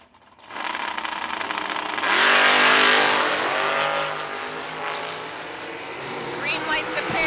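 A pair of drag race cars launches at the green light, engines roaring loud and close, swelling to a peak and then holding a sustained high-revving drone as they pull away.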